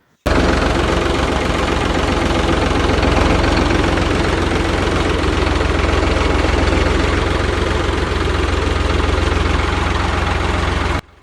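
A Farmtrac 45 tractor engine idles close by, a loud, steady diesel chugging with rapid rhythmic knocking pulses that starts abruptly and holds constant for about ten seconds before cutting off.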